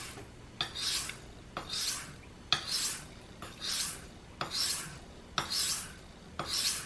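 A stainless steel knife is drawn across a sharpening stone in slow, even strokes, about seven rasping scrapes at roughly one-second intervals, each with a soft click at the start, close and quiet with no talk.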